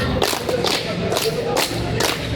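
A group claps a counted pattern of about five sharp, broadband claps spread in bunches, loud and close, with a faint murmur of voices beneath.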